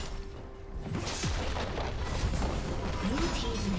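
An inhibitor is destroyed in a League of Legends-style match, a deep booming explosion rumbling under game sounds and an announcer-like voice throughout.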